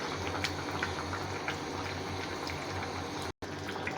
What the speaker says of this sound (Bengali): মুরগিটা বলক এসে পড়ছে।